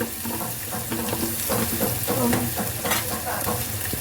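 Tomatoes drop into a hot, sizzling pan already seasoned with asafoetida while moong sambar is cooked, giving a steady, close frying hiss with stirring scrapes and no speech over it.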